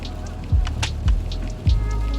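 Rain falls steadily on a lakeside outdoor scene, a close, continuous patter with a few heavier drop impacts landing on a surface.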